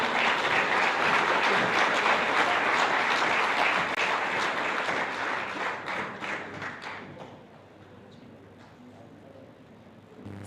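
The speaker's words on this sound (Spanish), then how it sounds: "Recibámosles con fuertes aplausos." Audience at a church Bible seminar applauds, a burst of many hands clapping loud at first, then thinning to scattered claps and fading out in a quiet room.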